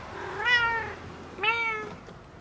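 A house cat gives two clear, drawn-out meows about a second apart, close by and alone with no talking.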